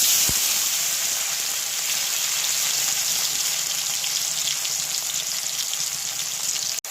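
Tomato hitting hot oil with dry chilli and five-spice tempering, a loud, dense, continuous sizzle from start to finish, with a sharp tap at the start and a knock at the end.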